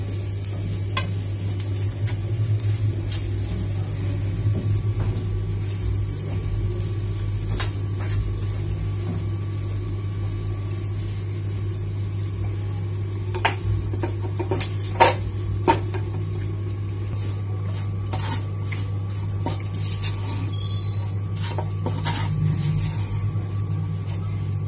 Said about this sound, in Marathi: आता हे खोबरं मी भाजून घेते.